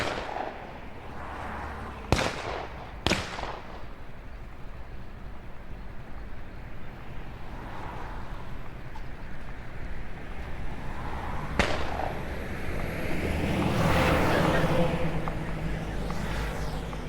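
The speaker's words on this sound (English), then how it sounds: "surprised when explosions and gunfire pull the stormtroopers away from the crossroads" Wartime explosions and gunfire ring out in a dramatized scene as stormtroopers at a crossroads are drawn away, with two sharp cracks early, a later crack and rolling, rumbling blasts building toward the end over a dense background.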